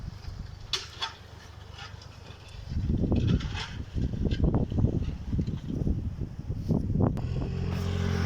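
A tractor pulls a Başak 2060 disc harrow with 51 discs over a field, its engine a steady loud rumble that rises and throbs through most of the stretch, with rattling and clanking from the implement.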